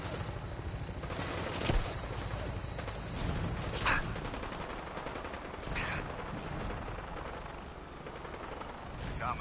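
Gunfire in the Fallout 4 video game: several bursts of shots cut through a continuous rumbling, helicopter-like drone, with a few louder cracks standing out in the mix.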